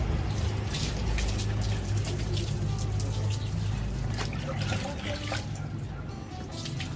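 Water pours and trickles onto an elderly woman's face as she is bathed, a steady splashing wash close by with low voices talking over it.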